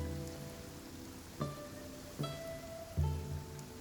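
Steady rain falls in the Genshin Impact video game, a continuous soft wash of drops heard alone, with a few brief musical tones rising over it.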